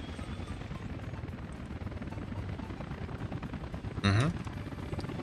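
A helicopter in the Workers and Resources video game gives a steady, loud rotor and engine drone throughout, with a brief louder burst near the end.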